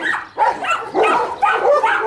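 A powerful Central Asian Shepherd dog from Kyrgyzstan barks in a series of deep, close, loud woofs, four or five in quick succession, with a faint whimpering edge between them.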